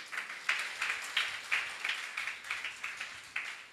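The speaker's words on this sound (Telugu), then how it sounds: "కొట్టొకసారి చప్పట్లు గట్టిగా" Audience in a Telugu church sermon claps together in bursts, a rhythmic run of roughly a dozen sharp, fairly loud clap volleys close by with no talking over them.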